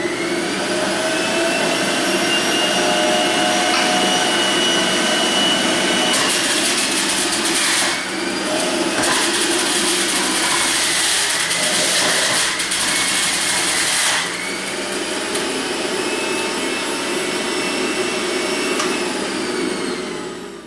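Breville Compact juicer juicing oranges, a loud steady motor whine with a harsher grinding stretch in the middle as fruit is pressed through, then settling back to the even hum, with no talking.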